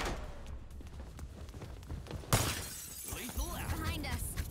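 Glass shatters in the tactical shooter game Rogue Company: a loud, bright crash about halfway through, with scattered debris after it, under a low game backdrop and people talking.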